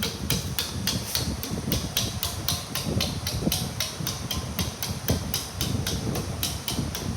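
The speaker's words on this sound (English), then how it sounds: "Always use a mallet around the brake." Rapid, steady mallet blows strike sheet metal held in a brake while a plenum with an end cap and collar is formed, a sharp metallic tap repeating roughly three times a second, close and loud over a low background hum.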